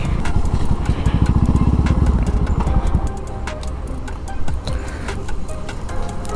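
A motorcycle engine runs loud and near with a fast, throbbing rumble for a few seconds, then drops to a lower, rougher idle as the bike comes to a stop.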